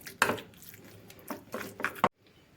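Chopped garlic stirred into mayonnaise in a bowl, giving a few soft, wet scraping and clinking strokes close by, then quiet.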